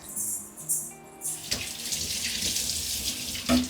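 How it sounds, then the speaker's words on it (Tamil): A kitchen tap runs while hands are washed, with close splashing and gurgling water; the flow changes as hands move under it, with a few brief clatters. "இந்த 1 நிமிஷம் கை கழுவிட்டு."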